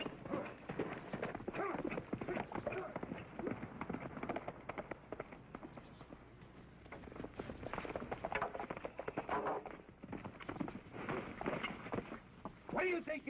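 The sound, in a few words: horse hooves clip-clopping as rider rides off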